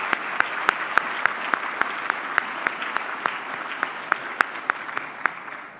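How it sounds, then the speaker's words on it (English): Applause from the audience at the close of a December 2018 talk event fills the room, a steady wash of many hands with a few sharp, distinct claps standing out above it, fading slightly at the end. "Just maybe one final round of applause and thanks to Ed and to all of our speakers and panelists from Gar."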